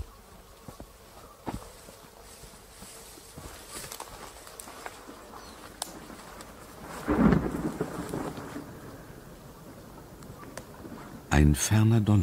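A distant thunderclap rumbles midway through a quiet, rainy backdrop in a crime radio drama, followed later by a sharper burst of noise.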